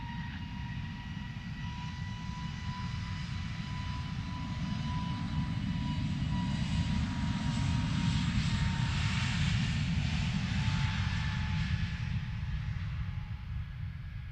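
An EasyJet airliner taking off from runway 25 at Luton Airport, a steady heavy engine roar with a deep rumble and a whining tone, swelling slightly louder midway and holding without speech.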